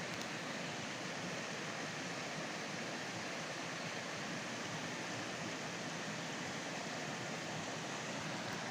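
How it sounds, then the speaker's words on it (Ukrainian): A small river spills over a waterfall of roughly a metre onto a solid stone riverbed, making a quiet, constant rushing hiss that stays even and unbroken from start to finish. "А тут водоспад."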